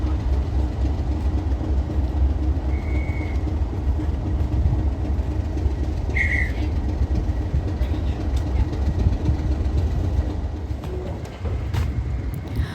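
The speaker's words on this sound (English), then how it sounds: "Harvey suddenly suggested we jump on this train back to Sheringham" A steam train on the North Norfolk Railway rumbles steadily nearby, a continuous low mechanical drone with faint higher tones drifting in and out.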